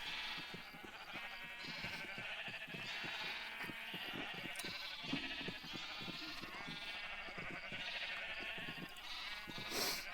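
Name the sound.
sheep bleating in the video game Ancient Kingdoms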